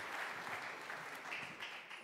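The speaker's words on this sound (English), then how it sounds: "let's give them one final round of applause" A congregation at a church worship gathering applauds steadily, a dense, even wash of clapping from many hands that fills the whole stretch without pause, with no voices rising above it.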